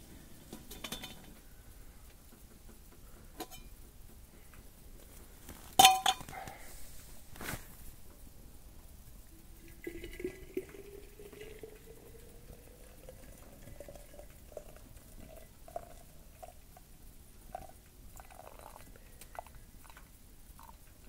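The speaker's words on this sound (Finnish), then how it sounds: "täytetään nyt tämä vesi tästä" Water runs into a container, its pitch rising steadily as the vessel fills, faint and close amid a few clinks and knocks of dishes.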